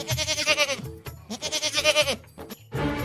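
A goat bleats in a village yard in a series of wavering, nasal cries, loud and close, with short pauses between the calls.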